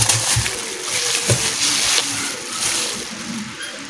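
Pork belly in a marinade of garlic, pepper and oyster sauce is stirred by hand, giving close, wet sloshing and squelching sounds that continue steadily for a few seconds.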